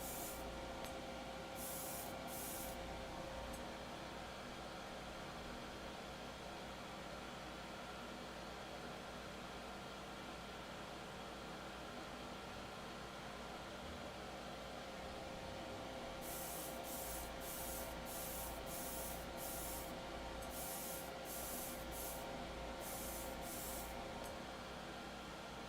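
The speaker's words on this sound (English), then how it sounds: "let's finish priming these colored parts, and then we will move on to priming the inner frame" Spray primer hisses onto Master Grade model kit parts in short bursts, a few near the start and a rapid series later, over a constant low hum of background air noise.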